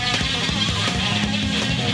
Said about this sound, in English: Listen to the sound of the guitar.